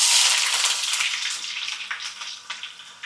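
Mushrooms dropped into hot oil for deep frying give a loud, continuous hiss and sizzle that slowly eases, with faint crackles on top.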